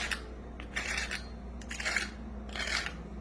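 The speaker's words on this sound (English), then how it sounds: "Let me grab a fork so you can hear the crispness." A fork breaks into a crispy fried fish fillet, giving several faint crackly crunches in short bursts against a quiet background.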